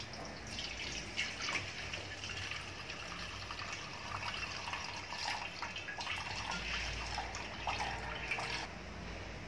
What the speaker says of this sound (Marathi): आपण हे वरचं अगदी अलगदपणे पाणी काढून टाकायचं आहे